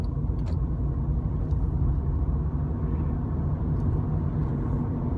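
A car's engine drones in a steady low rumble from inside the cabin as it pulls away in third gear after a clutch change, continuous and fairly loud with no voices.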